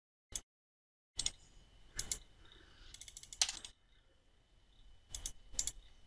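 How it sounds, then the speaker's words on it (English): An article name typed into a search box on a computer keyboard: sparse, crisp key taps come singly and in short bursts, separated by silent gaps, close and quiet with no speech. "type the name of the article into the search box"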